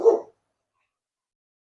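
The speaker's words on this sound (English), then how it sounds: "And excuse the dogs." One short, muffled bark from a dog, close and fairly loud, followed by silence.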